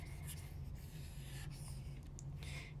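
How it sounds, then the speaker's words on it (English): A board being erased with rubbing, brushing swipes in several short bursts over a low steady room hum, close and fairly quiet. "wait, let me just erase this."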